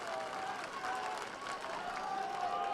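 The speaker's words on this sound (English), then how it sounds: "All members of the Pirate ship rising up to their feet right now. Cascading claps." Crowd at a high school state championship baseball game rises to its feet and applauds, a dense, steady wash of clapping and cheering sustained throughout at moderate volume.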